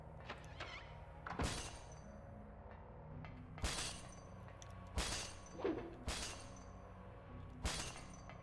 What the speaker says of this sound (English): The room where a glass breaking sound happens.